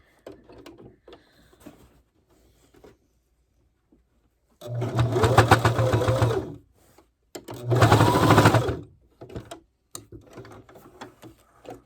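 Sewing machine stitching to tack down fabric on a ribbon skirt, two loud, close bursts of rapid mechanical whirring of about two seconds each, separated by a pause and surrounded by quiet handling clicks.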